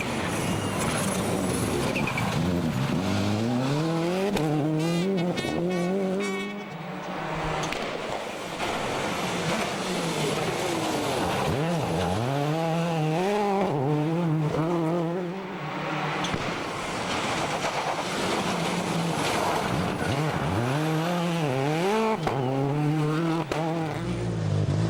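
A Peugeot 206 WRC rally car in Transalliance colours races on asphalt at the Rallye Alsace-Vosges, its engine revving hard through repeated up and down sweeps and gear changes, close and loud throughout.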